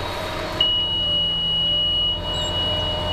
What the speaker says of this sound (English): It's beeping at me because I raised my planter up so quick planting